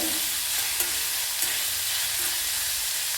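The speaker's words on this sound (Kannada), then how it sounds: "ಸ್ವಲ್ಪ ಈರುಳ್ಳಿ ಕಲರ್ ಚೇಂಜ್ ಆಗಬೇಕು, ಅಲ್ಲಿವರೆಗೂ ಸ್ವಲ್ಪ ಫ್ರೈ ಮಾಡ್ಕೊಳ್ಳೋಣ" Chopped onions with curry leaves fry in an open pan for a sprouted moong and dill curry, giving a steady, close hiss with a few soft stirring scrapes and no voices.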